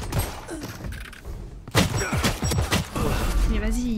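Rapid gunfire bursts and thuds from a Valorant round, loud and close, repeating in clusters under excited French talk and in-game voice callouts.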